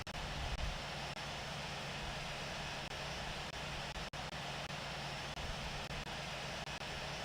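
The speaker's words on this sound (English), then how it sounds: "I'm a little bit too close to this guy's APU." In the Infinite Flight video game, an airliner's APU and jet engines idle as a steady broadband roar with a low rumble, continuous and even throughout with no talking.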